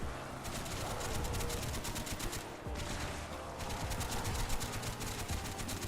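Rapid automatic gunfire from a turret in Call of Duty: Black Ops Zombies, sustained bursts of dense rattling shots with a brief pause midway, loud over game noise.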